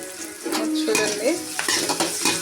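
Onions, curry leaves and turmeric sizzle steadily in a pan for a capsicum fry, with a utensil stirring and scraping through the frying in close, continuous bursts.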